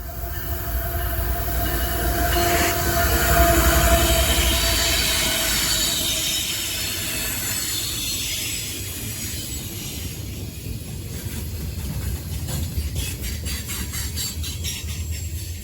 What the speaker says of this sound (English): here's a mystery train with 2 ETs